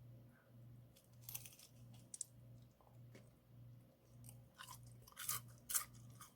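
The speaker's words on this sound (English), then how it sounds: "Let me take a bite off the edge of the crust." Someone bites into the crispy crust edge of a keto skillet pepperoni pizza, giving close, quiet crunching and chewing with scattered sharp crackles and a faint steady background hum.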